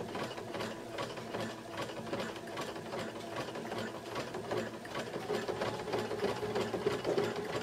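Domestic sewing machine stitching a fabric appliqué, a steady rapid needle clatter running unbroken and fairly close, growing slightly louder toward the end, with no voices.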